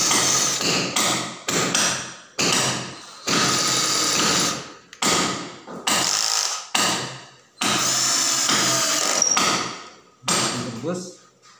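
An ordinary nail, used in place of a steel nail, is hammered in a series of sharp, loud strikes. Each blow rings briefly, with short pauses between the bursts.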